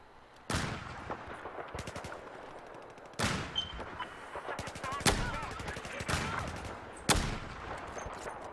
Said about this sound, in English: That guy just got shot like 15 times.